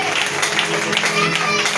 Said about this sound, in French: Je peux avoir le meilleur des acclamations.